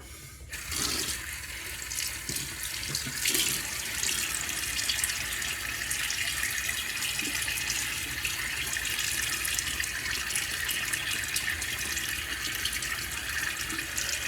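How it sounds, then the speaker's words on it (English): A bathroom tap runs in a steady, loud, unbroken stream for wetting the face before a wet shave, close by and continuous throughout with no voices. "and John, let me get my face wet."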